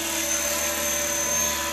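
A T-REX 600ESP RC helicopter hovers close by with a loud, constant high-pitched rotor whine and motor buzz, steady throughout.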